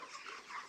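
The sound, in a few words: broiler chickens clucking on a poultry farm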